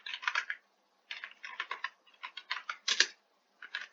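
Bursts of rapid key clicks from a computer keyboard as code is typed, close and clear, coming in quick clustered runs separated by short pauses, with no talking.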